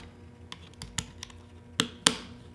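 Slide lids on a Flowermate vaporizer snap into place with a few small, sharp plastic clicks. Two are louder and close together near the end, all close-up and quiet otherwise.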